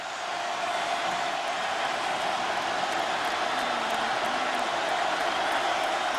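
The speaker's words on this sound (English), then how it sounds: "Crowd roaring." A football stadium crowd at the 2007 Auburn vs Clemson Chick-fil-A Bowl roars in a dense, continuous wash of noise that holds steady and loud for several seconds.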